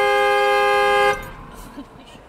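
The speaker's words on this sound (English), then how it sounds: "if you turn your car all the way off, it just starts honking" Car horn blaring in a single long steady blast for about a second after the vehicle is switched off, then cutting out abruptly, leaving faint background noise and distant voices.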